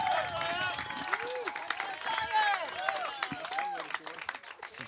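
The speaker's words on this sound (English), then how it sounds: "You hear them loud and clear cheering for that one" A family section of the crowd at a Santa Barbara Foresters summer-league baseball game cheers loudly and continuously, whoops and voices mingling with scattered clapping close by.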